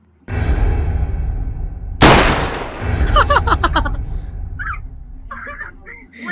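Gunfire in the video game Roblox, with a sharp loud shot cracking out near the start of a busy game soundscape, then a rapid burst of lighter clattering shots and clicks, and a voice briefly speaking toward the end.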